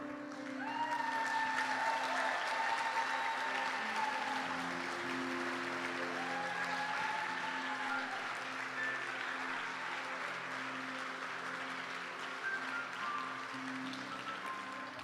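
Sustained applause from a church congregation at a pastor's service, a dense, even wash of many hands clapping over soft music, continuous and steady throughout with a slight easing toward the end.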